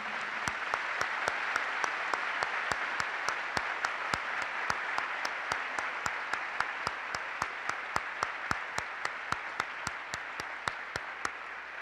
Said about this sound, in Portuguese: Vamos aplaudir esse Espírito que está sobre nós.